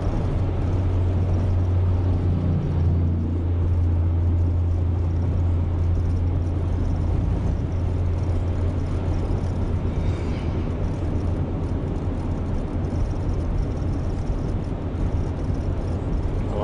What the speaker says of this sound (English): Oh, I see trucks coming.